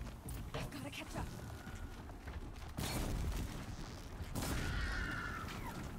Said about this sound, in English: That exploded right in front of me